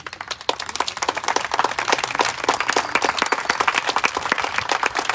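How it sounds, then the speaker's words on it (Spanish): A church congregation claps hard and fast during a Sunday service, a dense, steady wall of crisp hand claps at close range that carries on for several seconds with no talking. "Muy bien, denle un aplauso a nuestro Dios."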